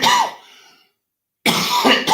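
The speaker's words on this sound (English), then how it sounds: "I'm sorry about the coughing" Two harsh, close coughs, one at the start and another after a second of silence, with a faint ragged tail trailing off the first.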